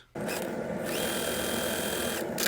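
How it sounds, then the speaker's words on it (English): A sewing machine stitches a seam straight across joined fabric strips for quilt binding: one continuous, close, rapid mechanical whir that starts suddenly and runs steadily, with no talk. "you'll sew a seam straight across"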